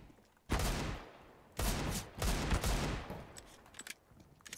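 Bursts of gunfire from a small weapon in the video game CS:GO, two rapid volleys with a brief pause between, loud and close with sharp crackling shots.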